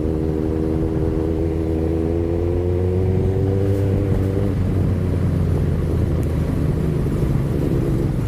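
Many motorcycle engines drone past on a road in the Philippines in dense traffic, a steady close rumble with rising and falling engine tones throughout.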